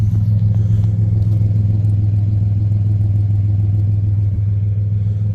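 A 1996 Chevy S10 pickup's engine with a new exhaust rumbles steadily with a deep, throaty exhaust drone, loud and close, holding a constant low tone throughout.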